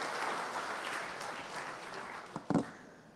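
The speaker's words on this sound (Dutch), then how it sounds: "mag ik een warm applaus voor onze keynote speaker voor de closing, Mike Antonius." Soft, fairly distant audience applause at an ICT summit as the closing keynote speaker is welcomed, steady clapping that tapers off, with a couple of louder close claps near the end.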